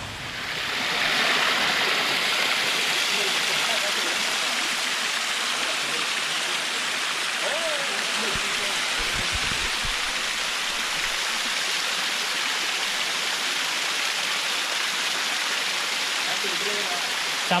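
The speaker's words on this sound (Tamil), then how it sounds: "ஏற்காடில் நாங்கள் பார்த்துட்டு இருக்கிற ஃபஸ்ட்டு ஃபால்ஸ் இது" A waterfall in Yercaud after rain gives a steady, loud rushing roar of falling water that runs unbroken from start to end, with no talk over it.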